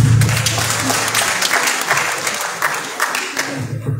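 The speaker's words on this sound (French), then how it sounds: "Applaudissez-vous." Audience applause at a women's expertise summit in the People's Palace, Comoros, with many hands clapping steadily and dense throughout, then fading out near the end.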